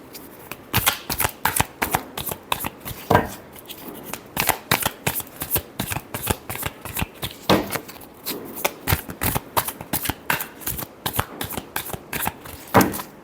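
Tarot cards being shuffled by hand, a steady run of quick, crisp riffling bursts close up, with no talking.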